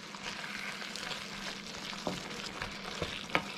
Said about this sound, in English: that's been frying away there for a good 10 minutes or so